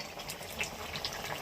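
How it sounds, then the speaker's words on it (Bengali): A pot of curry with Malabar spinach simmers, giving a soft, faint bubbling and watery gurgle with small pops, steady and close, with no voices. "তরকারি ফুটছে, তরকারি প্রায় হয়ে যাওয়ার মতন হয়েছে।"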